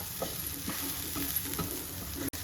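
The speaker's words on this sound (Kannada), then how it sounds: "ಈ ಎಣ್ಣೆಯಲ್ಲೇ ಸ್ವಲ್ಪ ಈ ಮಸಾಲೆ ಫ್ರೈ ಮಾಡ್ಕೊಳ್ಳಿ." Masala frying in oil in a pan, with a soft steady sizzle and a few scrapes of a spoon stirring through it.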